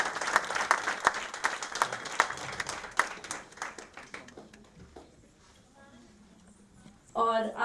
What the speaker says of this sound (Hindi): एक बार जोरदार तालियों से इन छात्रों को सूचित कर दें।